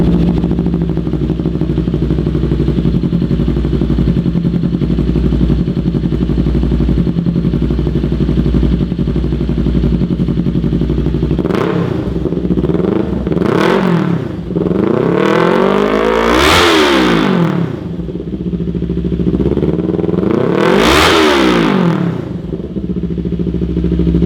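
A Kawasaki Ninja 400 with a Hindle Evo megaphone full exhaust and no insert idles loud and close, then gets revved hard in two big rising and falling blips.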